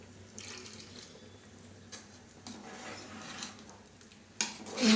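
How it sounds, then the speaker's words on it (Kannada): Water poured from a vessel into ground masala for chicken curry makes a faint, close trickle and splash with a few soft clinks of utensils, building to a louder pour at the end, with no talk. "ಇದಕ್ಕೊಂದು ಸ್ವಲ್ಪ ನೀರು ಹಾಕತ್ತಾ ಇದ್ದೀನಿ."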